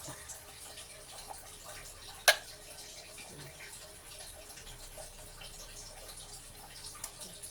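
Water pours softly into a fruit salad ice candy mixture of milk and fruit cocktail, a low steady trickle with a single sharp tap against the container.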